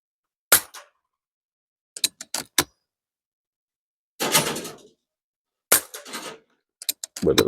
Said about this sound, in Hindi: पहला M3 10 शॉट्स का ग्रुप बनाते हैं भाई